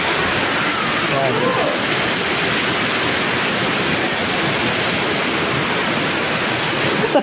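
Heavy rain pours in a steady, dense hiss throughout, loud and close, with no break in the downpour; a voice is faintly present beneath it.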